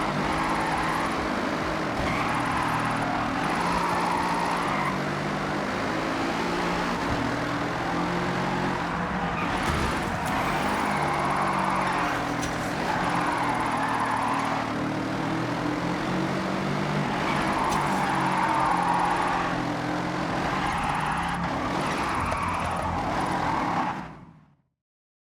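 A car engine drones steadily in Forza Horizon 6 during a drift run, rising and falling in pitch with faint tire squeal over a constant loud roar that cuts off abruptly at the end.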